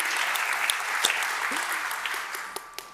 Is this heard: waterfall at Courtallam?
no